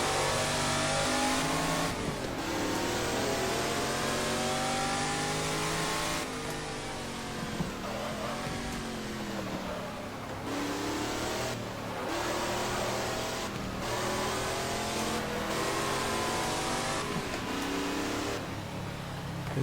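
A 1970s Tommaso race car engine in the GT Legends racing game, revving hard and loud as it climbs through the gears with rising pitch, a brief drop at each shift, and a continuous close roar.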